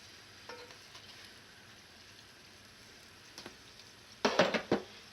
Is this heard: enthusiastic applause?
no